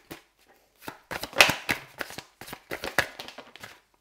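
Tarot cards shuffled and drawn by hand, heard as a quick run of crisp, close riffling slaps and flicks with short pauses between them. No talking.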